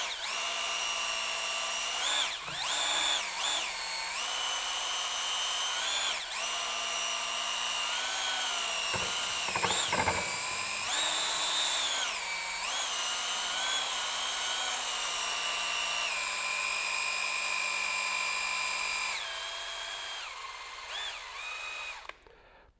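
A power drill fitted with a Hyde Stir Whip paddle whirs steadily while mixing paint in a 5 gallon can, its pitch dipping and recovering several times under load before stopping at the end.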